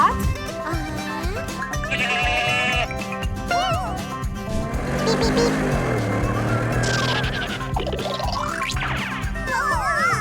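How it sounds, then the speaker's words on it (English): A goat bleats on a farm amid a busy mix of sounds, with wavering bleats rising and falling over background noise and other animal and mechanical sounds, fairly distant and partly masked. "hear the goat?"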